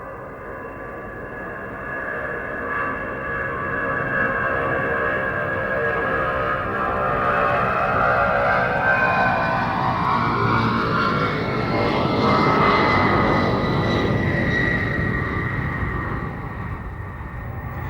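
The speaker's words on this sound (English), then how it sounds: "this, the C5B version seen here, first appeared in 1982" A C-5B Galaxy military transport aircraft at the Mildenhall air show makes a loud, sustained jet roar and whine that swells, shifts in pitch as it passes, then eases slightly.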